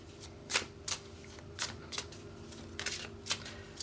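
Pure Love Oracle cards being shuffled by hand, a series of soft papery riffling bursts at an uneven pace over faint background hum, with no voices.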